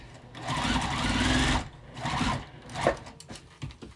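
A sewing machine runs a straight line of stitches up the pocket of a quilted bag. Its close, rapid mechanical whir comes in two bursts separated by brief pauses, then a few light clicks as it stops.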